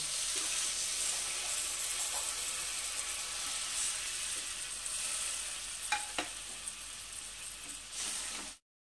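Water from a rinsed spice plate hits frying spices for a potato and paneer curry, setting off a steady loud hiss of sizzling with a few faint utensil clinks before it cuts off abruptly.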